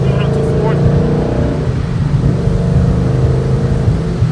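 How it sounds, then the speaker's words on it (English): A 2011 Ford Mustang with stock suspension accelerating through third gear toward fourth, a loud, steady low engine drone heard from inside the car with a slight pitch change partway through. "Third gear going up to fourth."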